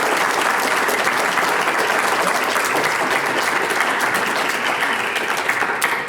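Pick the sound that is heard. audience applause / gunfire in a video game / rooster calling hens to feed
audience applause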